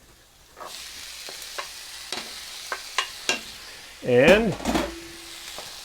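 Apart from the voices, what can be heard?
stirring beans into softened onions sizzling in a pan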